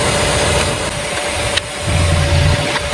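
A used car engine idles under an open hood, a loud, steady mid-pitched rumble with a constant hum and a brief click partway through, no talking.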